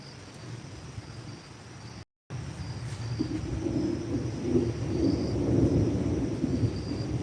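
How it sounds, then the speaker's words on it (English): August thunderstorm with a low, rolling rumble of thunder that swells over a steady background of rain hiss and faint insects. "a nice August thunderstorm."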